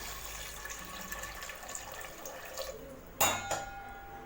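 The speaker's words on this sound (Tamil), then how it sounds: "வேகிறதுக்கு தண்ணி சேர்த்திக்கலாம்." Water pours and splashes into a metal pot of mutton dalcha, followed by a short clang of metal, with a faint kitchen background.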